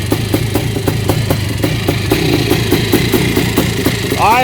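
A Yamaha YZ490 motorcycle's two-stroke engine idles close and loud with a steady, rapid popping beat, the exhaust note rising briefly near the end.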